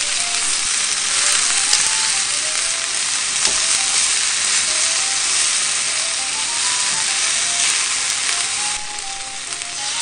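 Pork loin with green peppers and paprika stir-fries in a frying pan with a steady, bright, loud sizzle and light scraping stirs throughout, no voices.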